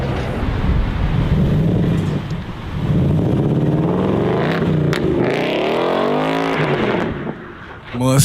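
Ford Mustang engine revving hard and accelerating, loud and close with rising and falling pitch sweeps and wind buffeting, while a voice talks over it.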